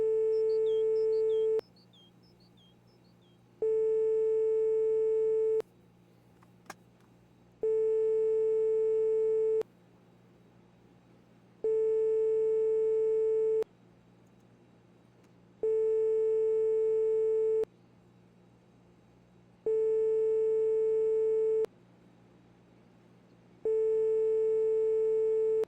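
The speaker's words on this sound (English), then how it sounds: "Gonna answer the phone" A telephone ringing in the video game My Winter Car, even two-second electronic ring bursts repeating at regular intervals with silent gaps between them, clear and alone.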